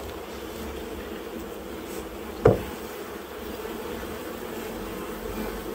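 A honeybee colony hums steadily inside an apiary hive during a spring inspection at a queen-rearing and selection yard, the colony likely queenless. The low drone continues throughout, with one short sharp knock partway through.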